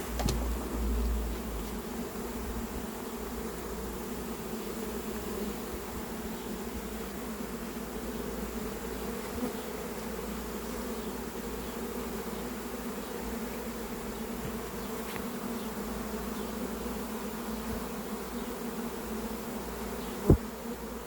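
A recently settled honeybee swarm being collected in Vaux-le-Pénil hums as a dense, continuous buzz at steady loudness, with a single sharp knock near the end and no talking.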